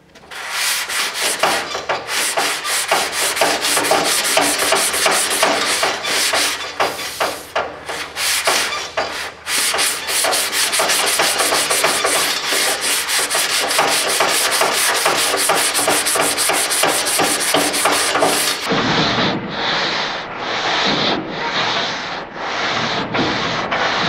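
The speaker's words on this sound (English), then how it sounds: "I got a little bit of sanding ahead of me." Sanding on the fenders and nose pieces of a 1970 Camaro SS: a continuous, loud, close abrasive rasp that shifts near the end into shorter, rhythmic back-and-forth strokes, with no talking.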